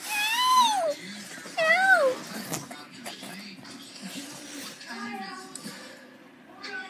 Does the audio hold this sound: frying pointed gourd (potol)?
no